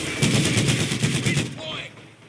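Rapid machine-gun fire in the Company of Heroes 2 Ardennes Assault war game, a loud steady burst lasting over a second, then fading into battle noise.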